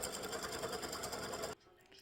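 An embroidery sewing machine stitches a freestanding-lace bunny peep earring design, its needle chattering in a fast steady rhythm close by for about a second and a half before stopping abruptly, leaving quiet room hum.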